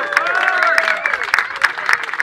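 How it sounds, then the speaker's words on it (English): Crowd applause at an outdoor chilli eating competition in Eindhoven, a steady patter of clapping sustained for a couple of seconds, mixed with voices and calls that ride over it. "Ladies and gentlemen, please give him a big round of applause."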